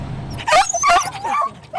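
Several of 14 rescued dogs bark and yip after a North Highlands house fire, a burst of close, loud overlapping barks in quick succession with brief gaps, no talk.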